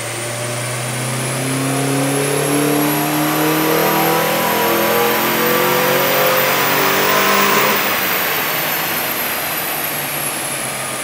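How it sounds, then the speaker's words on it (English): A Suzuki Swift with a Monster Sport exhaust and aftermarket pod filter intake revs hard on a dyno, a loud close engine note climbing steadily in pitch through the gears, peaking, then falling away as it backs off, with no voices. "This is it, it's time to run it up on the dyno."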